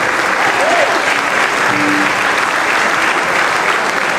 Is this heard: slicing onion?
no